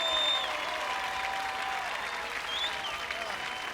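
Arena crowd at an American Gladiators Assault event cheering and applauding as a contestant finishes, a broad steady wash of clapping and cheers heard from a distance, moderately quiet, with faint whistle-like tones over it.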